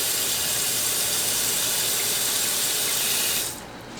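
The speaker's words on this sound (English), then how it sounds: "So you're just going to put the whole head of cabbage in a pot and fill it up with water." Tap water pours steadily into a pot holding a whole head of cabbage, a continuous close hiss and splash that cuts off near the end.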